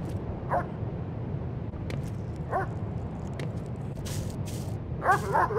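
Dog-like creature in the video game STALKER Anomaly Zone, a few sparse, short barks spaced a couple of seconds apart over a dense rumbling background, with a final cluster of yips near the end.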